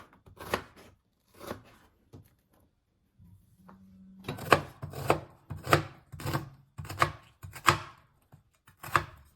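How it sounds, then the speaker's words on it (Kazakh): An onion being finely chopped with a knife on a board for a lecho salad, sharp separate knife strikes in quick bursts, close and clear, with short pauses between runs of cuts. "пиязымызды жақсылап тазалап, жуып алып, осылай видеодағыдай ұсақ етіп турап аламыз"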